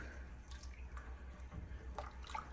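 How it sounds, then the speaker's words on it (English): A spoon stirs a homemade alkalinity solution for a reef tank, sending light sloshing and a few soft clinks and trickles of liquid over a low steady hum. "Stir. Keep stirring it."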